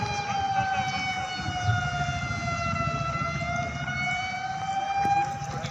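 Ambulance and fire engine sirens wail steadily during a police mock drill at a police lines ground, a loud, continuous, slowly wavering tone that holds for several seconds over a low rumble of vehicles.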